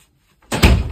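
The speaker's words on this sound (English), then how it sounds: "And then you shut the door" A door on the Edge 2026 product shut with one firm thunk after half a second of near silence, close and loud with a short resonant tail.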